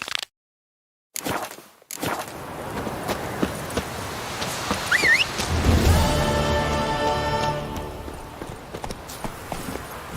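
Roach the horse's hooves clip-clop in The Witcher 3 after a brief silent gap, running as soft repeated steps under a steady wash of rain and game ambience, with a rising thunder-like rumble midway.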